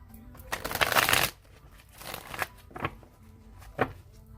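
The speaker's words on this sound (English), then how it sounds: "I'm going to shuffle it 3 more times." A tarot card deck is shuffled by hand nearby, starting with a loud riffling burst and followed by several softer flicks and taps, with no voices.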